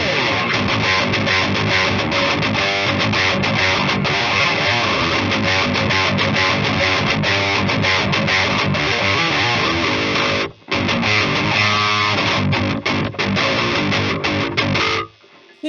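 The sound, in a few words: electric guitar through Harley Benton Mighty 15 amp with KSR EROS pedal, more gain, hiss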